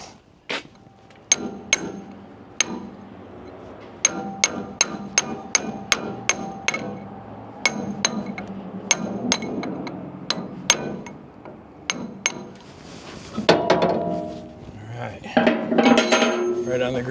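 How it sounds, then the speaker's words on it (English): Sharp metallic hammer blows drive a punch onto a grease zerk on a JCB 1400B backhoe, about two dozen close, loud strikes in uneven bursts, with clattering of tools and metal near the end. "we need a good solid punch"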